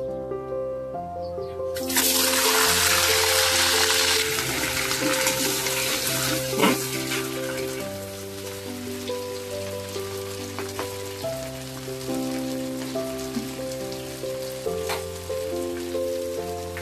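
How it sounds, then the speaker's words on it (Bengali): Prawns frying in hot oil for a giant freshwater prawn coconut-milk curry, a loud broad sizzle bursting in after a quiet start and settling into steady crackling over a soft background tone, with no talk. "তেলটা সুন্দরভাবে গরম হয়ে এসেছে, এবার আমি চিংড়িগুলা ভেজে নিব"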